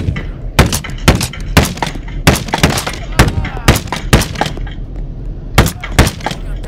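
Loud gunshots in the VR game BoneLab sound as a string of sharp, close cracks, fired singly and in quick pairs at an uneven pace over a low background hum.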